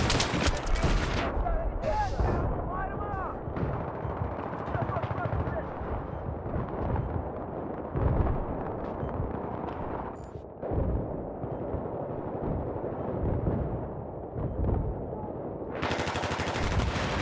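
Battlefield 3 online match on the Metro map, with sustained bursts of automatic gunfire and explosions filling the whole stretch, loud and dense, with voices talking over the battle.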